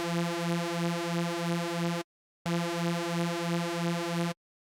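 Sampled sound played at C3 on a keyboard, a steady buzzy harmonic tone with a gentle pulsing wobble, held for two seconds, cut off, then played again for about two seconds.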